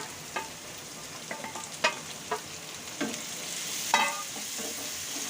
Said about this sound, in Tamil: வெங்காயம் நல்லா வதங்கிடுச்சு நம்ம தக்காளியும் அப்படியே போட்டுடலாம்